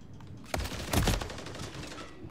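Modern Warfare III gameplay gives a short burst of video game gunfire, a few sharp shots grouped around the middle, fairly faint against a quiet background.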